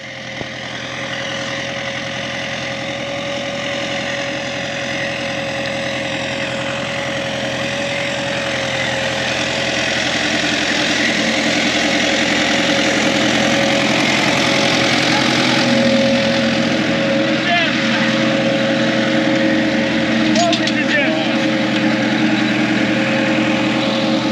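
A tractor engine runs steadily on a farm while cultivating between rows of watermelons, a loud continuous near drone with a slight rise in level and faint mechanical rattles, no speech.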